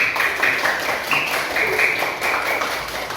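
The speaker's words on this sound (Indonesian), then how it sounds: "beri tepuk tangan untuk kita semua" Classroom of students clapping together at a teacher's prompt, a brief rhythmic burst of many small hands, close and moderately loud, with faint voices mixed in.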